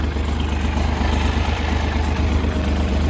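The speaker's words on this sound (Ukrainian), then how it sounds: "Отак досить тихо, досить адекватно працює цей новенький двигун." A new Kentavr 244M tractor engine idles with a steady, low, even rumble, smooth and unbroken throughout.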